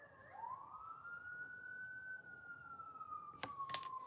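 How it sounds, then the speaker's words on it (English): A wailing emergency siren, likely a police car, sweeps and holds a steady tone at a distance, fairly faint, with a few sharp knocks or clatters close by near the end. "Y'all hear that siren?"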